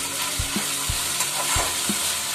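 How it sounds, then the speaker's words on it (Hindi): Ginger garlic paste frying with onions in a pan for a pointed gourd and potato dish, a dense continuous sizzle with several dull spoon knocks and scrapes at a loose, uneven rhythm. "जिंजर गार्लिक को हमें बस कुछ सेकंड के लिए फ्राई करना है"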